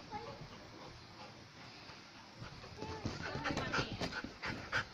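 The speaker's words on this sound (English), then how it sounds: "you cute little dog." A small pet dog pants during play at home, quick breathy huffs rising in the second half of the clip, with soft movement sounds and someone talking nearby.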